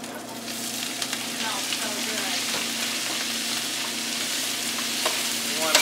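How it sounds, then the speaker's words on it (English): Cabbage is stirred into crispy bacon frying in a pan, with a continuous close sizzle and crackle and occasional scraping stirs. The level stays steady and there is no talking. "We want to incorporate that bacon nicely into that cabbage."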